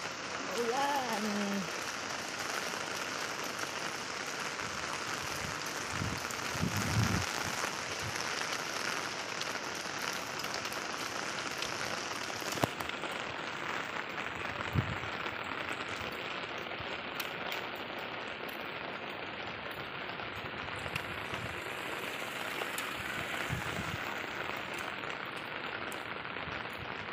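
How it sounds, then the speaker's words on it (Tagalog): Steady rain falls in Hong Kong as a continuous dense hiss that fills the whole stretch. A voice speaks briefly near the start, and a few louder drips or taps break through the wash. "Maulan sa Hong Kong."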